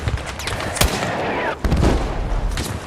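Mortar fire and other weapons in a shooter video game, with dense overlapping blasts and booms close by, and heavy rumbling explosions in a continuous chaotic barrage.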